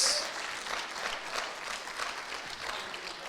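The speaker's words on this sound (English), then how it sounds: "Come on, somebody, clap for Jesus." A church congregation claps and applauds in praise, a dense, steady wash of many hands filling the room without a break.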